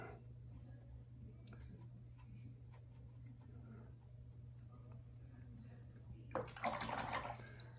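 Water poured out at close range, a short bright splashing burst near the end over a steady low hum and faint background clicks.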